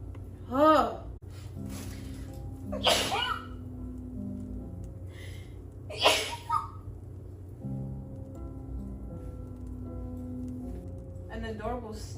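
A woman has a sneezing fit while cooking: several sharp, breathy sneezes break out in short bursts, close and fairly loud, between quieter stretches with a steady background hum.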